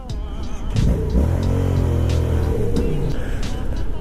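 Yamaha XSR700 motorcycle engine lugging and stalling while pulling off in third gear, a loud close rumble with uneven low throbbing that falters toward the end.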